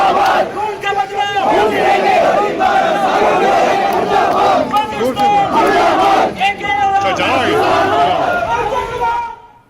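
A large protest crowd in Ramban shouts slogans in loud, rhythmic unison, with many voices massed close together and sustained throughout.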